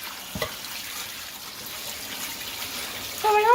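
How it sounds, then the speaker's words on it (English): Cold water poured over shallots while pickling them, a steady running splash from a tap or jug that gets slightly louder near the end, with no talking. "I'll pour cold water over them now."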